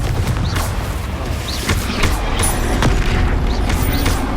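Repeated fiery Confringo spell blasts from the Hogwarts Legacy video game, heavy booming explosions landing one after another with rumbling low impacts and crackling bursts, loud and close with no talk.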